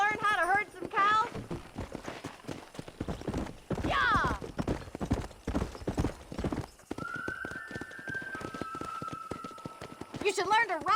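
Horse hooves clip-clopping in the Red Dead Redemption video game, a rhythmic run of close hoofbeats with a neigh and whinnies, plus a shout and some talk over the galloping.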